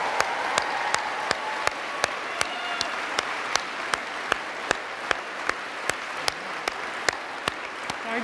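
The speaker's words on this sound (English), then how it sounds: "let's just give a round of applause to the class of 2025" A middle school graduation audience claps for the class of 2025, a continuous, even wash of applause punctuated by sharp, regularly spaced beats throughout.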